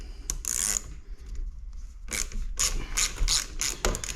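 Ratcheting clicks from a wrench tightening two 8mm bolts on Can-Am Outlander ATV hand guards, heard as several close, brisk bursts of rapid clicking separated by short pauses.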